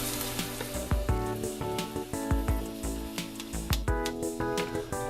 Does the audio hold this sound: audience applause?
no